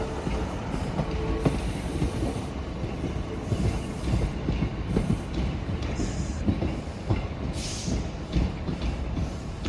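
A Scotrail class 380 train pulls out of Glasgow Central station with a continuous rumble, rhythmic wheel clatter and occasional high squeals from the rails, filling the station evenly throughout.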